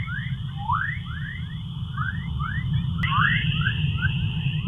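Chorus waves picked up by a NASA satellite in space, played as audio: a steady run of rising, bird-like electronic chirps over a constant low rumble and a thin steady whine, with a faint click partway through.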